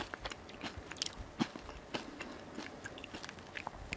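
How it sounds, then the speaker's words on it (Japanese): Crisp, irregular bites and crunching of Japanese shrimp crackers (ebi senbei) from Chubu Centrair airport, with close, sharp snaps spaced across the moment and no talking. "食感がですね、サクサクですごく美味しいです。"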